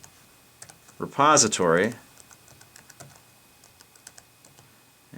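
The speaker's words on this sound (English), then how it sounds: "it's a little difficult for me to type here because the tripod and everything is in front of the keyboard" Close, light computer keyboard typing of a Linux terminal command, sparse scattered key clicks in an irregular rhythm, with a brief burst of talking near the start.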